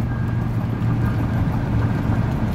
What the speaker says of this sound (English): Truck runs and drives really nice down the highway.